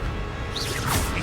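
A burst of Incendio fire magic in Hogwarts Legacy combat, a short rushing whoosh of flame over dense, loud game noise that swells briefly in the last half second.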